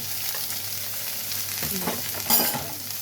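Crushed ginger, garlic and chopped onion frying in a pan for mutton chukka while being stirred, a loud continuous sizzle with scraping stir strokes and a sharper hiss burst late on.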